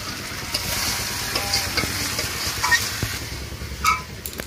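Meat cooks in a pan with a steady, fairly loud sizzle and hiss, broken by a few light stirring clinks and scrapes, and no one speaks.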